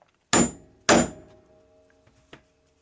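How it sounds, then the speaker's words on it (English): A hammer strikes a metal rivet-setting tool on a fabric prayer journal cover, two sharp loud thuds about half a second apart followed by a softer third tap, each leaving a brief metallic ring. "You'll take your little hammer or big one, whichever one you have,"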